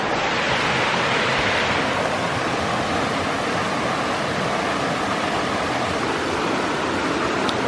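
A river rushes steadily beside a campsite, a loud, continuous broadband roar of flowing water close by with no voices.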